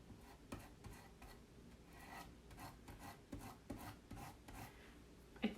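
A squeegee drawn repeatedly across a stencil to spread glitter paste, producing faint, close, gritty scraping strokes in an irregular rhythm, with a sharper knock at the end.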